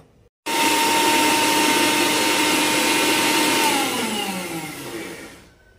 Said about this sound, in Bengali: আমার মিক্সিতে বাটা হয়ে গেল।